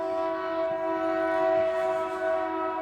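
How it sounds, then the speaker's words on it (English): A train passes at a distance, its horn holding a steady, sustained multi-tone blast over a low rumble, fairly faint and with no talking. "That's just a train."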